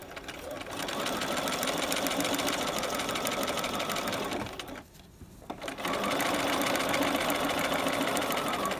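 Sewing machine stitching piping around a corner, running steadily at an even buzzing pace, pausing briefly midway, then resuming close and loud.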